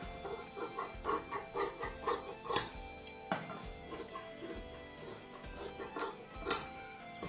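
Scissors snipping cloth inside the stitched neckline of a kurta, soft repeated crisp cuts and rustling in an irregular rhythm, close and fairly quiet.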